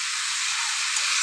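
Chopped tomato hits a pan of chicken curry and sizzles with a steady, bright hiss that stays loud and even from start to finish.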